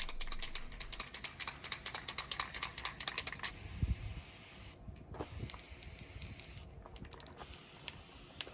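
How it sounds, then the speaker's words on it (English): Aerosol spray paint in a brass color applied to furniture hardware, short hissing bursts repeated in a quick irregular rhythm, then a few longer sprays with pauses, close and fairly quiet. "I spray painted all of the hardware a brass color."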